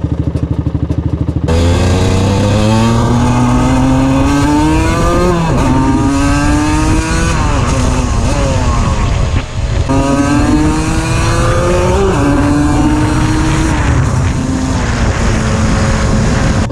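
An Aprilia RS125 two-stroke motorcycle engine revs hard and loud through repeated rising climbs and gear changes, a buzzing high-pitched whine under way, close and continuous throughout.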